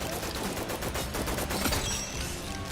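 Rapid video-game gunfire plays as a continuous, dense burst of shots, loud and unbroken for a few seconds with no talk.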